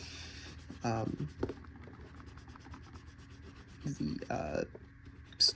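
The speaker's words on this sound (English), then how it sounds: "actually going to sketch over these drawings and erase them" Pencil sketching on paper while drawing an anime character, heard as two bursts of close, rapid scratchy strokes about three seconds apart over a low room hum.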